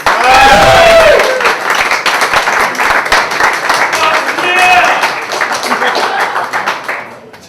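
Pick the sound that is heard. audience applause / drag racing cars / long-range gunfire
audience applause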